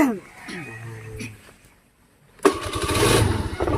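A week-old motorcycle that keeps stalling and won't stay running is cranked and catches with a sudden loud burst, then holds a rough, steady running roar after a voice talks over the quieter start.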